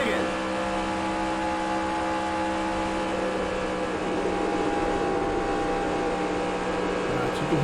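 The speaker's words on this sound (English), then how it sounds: "so you can hear me having to work the gas a little bit more now" Truck engine in NASCAR Racing 2003 on an oval race at Atlanta, a steady droning engine note that swells slightly as the throttle is worked, with a voice talking over it.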